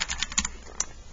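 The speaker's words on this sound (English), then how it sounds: "I do have to talk to myself sometimes when I'm typing," Rapid clicking keystrokes on a computer keyboard in a classroom, a quick irregular burst of close, moderately loud taps with no talking.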